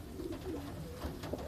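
New York flight pigeons, a flock of mixed-colour flying birds, coo steadily at close range: a continuous low, throaty murmur of overlapping coos with no talking.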